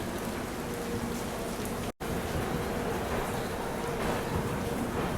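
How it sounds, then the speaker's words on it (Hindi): Steady rain falls heavily and evenly at the start of a train journey on the Ranakpur Express out of Bikaner Junction, forming a continuous dense patter throughout with one brief dropout. "आज सुबह से लगातार बारिश हो रही है बीकानेर में।"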